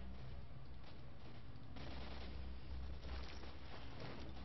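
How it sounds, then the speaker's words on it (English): Sniper rifle fire in S.T.A.L.K.E.R. Shadow of Chernobyl, a string of sharp gunshot cracks over a steady rumbling game background, with no talking. "Let's test out this sniper rifle we've got here"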